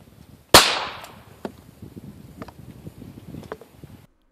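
A rifle fires CB and standard velocity rounds at a homemade body armor target of tin can and junk mail; one sharp, loud report rings out, followed by fainter scattered ticks and knocks.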